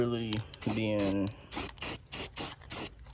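Short bursts of aerosol spray, about five quick hisses in an even rhythm, following a stretch of someone talking, spray-painting the engine bay of a Lexus IS300 with a built 2JZ engine.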